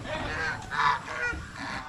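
Farmyard geese honk nearby in a few short, nasal bursts, each call rising and falling over faint background noise.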